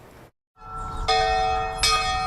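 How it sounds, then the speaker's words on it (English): A courthouse bell at the Estill County Courthouse rings out in loud, resonant strikes, with the first toll entering after a brief silence and a second stroke ringing over the lingering hum. "The bell at the Estill County Courthouse rings every day at 10 a.m."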